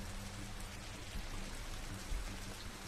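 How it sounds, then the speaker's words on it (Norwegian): Steady rain falls in the Teslagrad video game, a dense, even hiss of drops on surfaces at low volume, with a few soft thuds and no talking. "Og det regner, vi er jo i Bergen."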